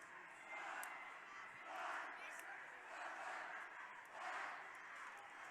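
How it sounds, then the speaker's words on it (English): A crowd at a varsity basketball sectional game against Munster, hyped up by cheerleaders during a timeout, rising and falling in rhythmic swells of chanting and cheering, moderately distant. "some cheerleaders getting the crowd hyped up."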